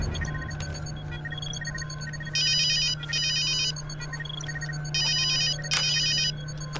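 A telephone rings in short electronic bursts, two pairs of rapid trilling rings over a steady low hum, heard alone with no talking.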